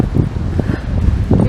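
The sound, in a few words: strong wind blowing outdoors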